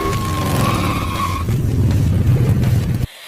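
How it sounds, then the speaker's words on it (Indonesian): In a Daredevil film scene, tires squeal loudly as a car skids and loses control, with engine roar, before an abrupt cut as it crashes into another car. "mobilnya kehilangan kendali dan menabrak mobil lain"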